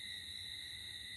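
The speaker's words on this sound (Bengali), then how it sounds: "চারিদিকে আধার, ঝিঝি পোকা ডাকছে," Crickets chirp in the dark of a rural night. Their high, unbroken trill fills the whole stretch at low volume, with a faint bird somewhere behind it and no talking.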